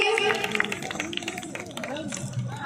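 An audience at a stage event with Sambalpuri dance claps in scattered rounds, moderately loud, while a voice speaks over the applause throughout.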